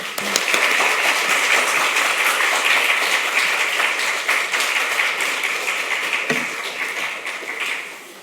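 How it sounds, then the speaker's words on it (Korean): Church congregation at an afternoon service clapping in welcome, a loud, sustained round of applause that tapers off at the end. "우리 큰 마음을 담아서 환대하는 마음으로 박수로 환영하겠습니다."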